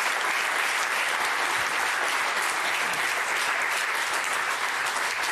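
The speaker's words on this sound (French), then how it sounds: "J'aurais vraiment qu'on applaudisse très fort Henri pour ce qu'il" Studio audience on a French television talk show applauding loudly and continuously, a thick, even roar of many hands clapping at once with no talk over it.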